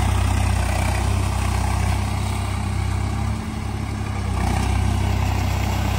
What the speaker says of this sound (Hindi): आज तो 855 ट्रैक्टर बुलाया है हमने इसमें